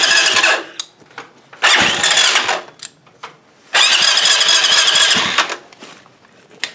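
A motorcycle engine fitted to a Massey Ferguson TEA 20 tractor cranks and fires in loud, harsh bursts with squealing revs, three long roaring runs separated by brief drops and sputters.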